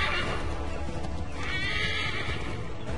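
A horse neighs and whinnies loudly in the video game Assassin's Creed III while its hooves clop steadily beneath, a continuous close burst of galloping and calls.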